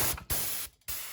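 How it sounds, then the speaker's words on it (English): A pressure washer's unloader valve cycling on an HF Predator machine, loud steady hissing spray broken twice by short drops as the valve kicks, close by. "unloader kicking"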